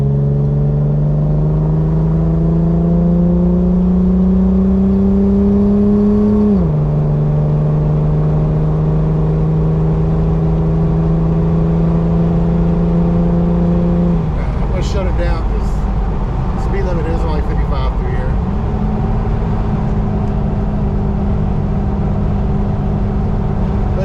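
A loud 2005 Jeep LJ engine accelerating hard drones and climbs in pitch, drops with a gear change, then climbs again, with a steady rumble underneath and brief clatter.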